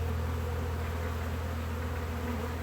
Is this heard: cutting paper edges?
no